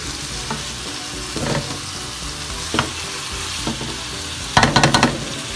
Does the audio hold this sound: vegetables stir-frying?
yes